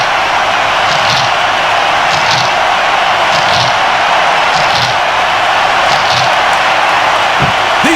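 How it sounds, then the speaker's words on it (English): Wrestling arena crowd in SmackDown vs Raw 2006, a loud, constant wall of cheering and roaring with rhythmic swells of chanting, filling the whole stretch without pause. "Sounds like this crowd's got something on their minds"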